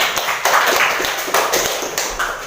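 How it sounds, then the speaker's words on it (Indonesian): A classroom crowd of students claps for a group that has just finished presenting, a dense, loud burst of applause that swells and fades in uneven waves across the whole moment, with no talking over it. "Berikan aplaus yang meriah."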